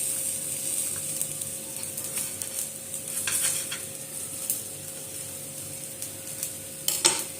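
Poha thalipeeth frying in oil on a hot griddle, giving a steady soft sizzle with occasional scraping and clinks of a utensil, and a sharper clatter near the end.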